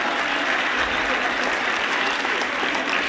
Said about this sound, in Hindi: तालियां साथियों